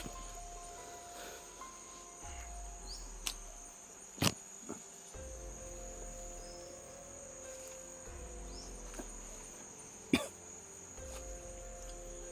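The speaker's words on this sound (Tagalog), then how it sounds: "Inuubo pa tayo." A couple of sharp coughs cut through a steady chorus of crickets, with a few quieter throat sounds scattered in between; otherwise calm outdoor night ambience.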